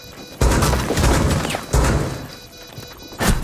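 Loud close blasts in Rainbow Six Siege, including a Claymore mine going off, land as several sharp booming crashes in quick succession, each followed by a rumbling tail.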